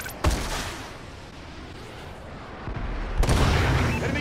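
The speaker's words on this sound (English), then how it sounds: "Friendly missile strikes incoming" Missile strike explosions in the video game Call of Duty: Advanced Warfare: heavy booming blasts that rumble low, with one sharp hit near the start and a louder burst of detonations toward the end over continuous battle noise.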